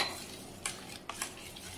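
A spoon stirs green ground paste into cooked, turmeric-tinted dal with a few soft scrapes and light clinks against the pot, quiet and close, over a faint background hiss with no talking.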